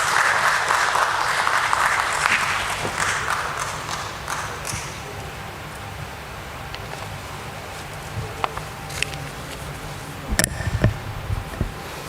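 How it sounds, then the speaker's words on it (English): Applause at the NMDC Steel Limited listing ceremony welcomes a speaker on stage: a full round of clapping that thins out and fades, followed by footsteps and scattered knocks as he approaches. "Let's welcome him with a round of applause."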